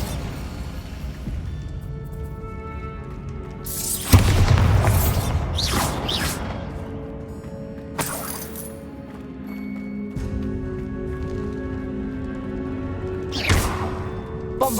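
A Bombarda explosion spell goes off in Hogwarts Legacy: a sharp blast followed by several scattered crashes and debris clinks, then a later single burst against a quieter tonal backdrop, with no speech.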